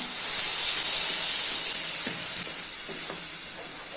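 Onion-tomato paste and Kashmiri chili powder sizzle loudly in a pan for fish tikka masala. The hiss is steady and close, with soft scrapes of stirring underneath.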